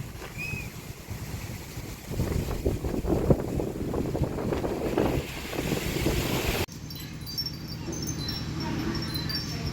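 Strong evening wind roars and buffets close by in a village in Cambodia, a loud, rumbling rush for several seconds, then cuts abruptly to a calmer, quieter background.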